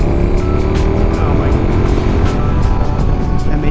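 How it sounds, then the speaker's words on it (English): A KTM 1290 Super Duke R naked motorcycle with an SE Project exhaust holds a loud, steady, close engine drone with a continuous rumbling tone and no break. "The bike sounds amazing. This one does have an SE Project exhaust,"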